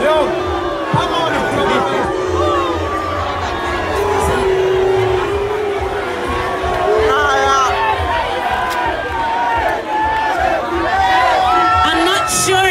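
Dense crowd hubbub at an Oktoberfest concert performance, a steady wash of overlapping chatter and scattered cheers close around, with voices talking throughout and no single sound standing out.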